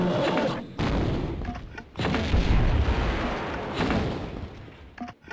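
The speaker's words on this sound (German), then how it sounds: "Oh, der ist explodiert, habt ihr das gesehen?" Grenade launcher explosions in the video game Tomb Raider 2, several heavy booming blasts with rumbling tails and short gaps between them, loud and close.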